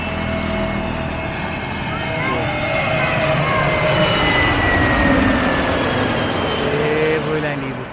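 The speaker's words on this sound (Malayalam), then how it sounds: "നമ്മുടെ അടുത്തുകൂടെ ഒരു ലാൻഡിങ് കേട്ടോ ഇൻഡിഗോയുടെ." An IndiGo passenger jet roars low overhead as it comes in to land, a loud, sustained engine rumble and whine that holds steady throughout and swells slightly midway.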